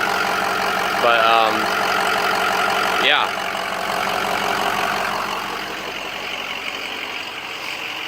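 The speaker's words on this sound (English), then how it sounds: "I think it's one of the best sounding diesel engines Ford's ever made" Ford 6.0 diesel engine idling in a pickup truck, a steady loud diesel clatter running through the clip, with someone talking briefly near the start.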